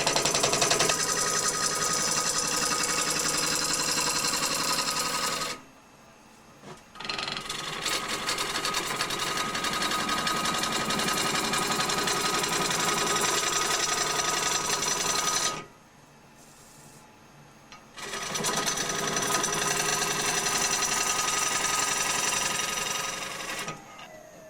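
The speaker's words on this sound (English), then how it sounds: "It is important to keep the bevel of the gouge rubbing on the timber." A woodturning gouge cutting a timber bowl on a lathe, giving a steady, loud, buzzing rasp in three long passes, each broken by a brief quieter gap between cuts.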